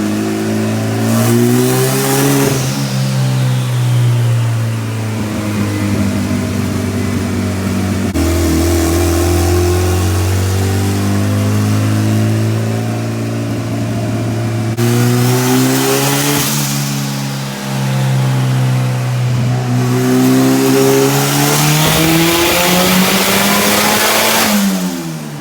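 Turbocharged all-wheel-drive Honda revving hard on a dynamometer, loud and close, with repeated pulls where the engine pitch climbs and drops through several throttle sweeps and no talking.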